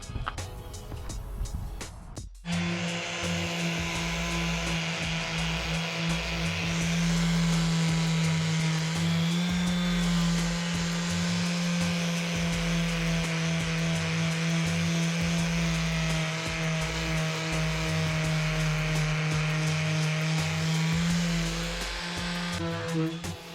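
A steady, high-pitched whine of a power sander sanding the body of a VW Bus runs continuously and loudly after a brief noisy start, with no talking.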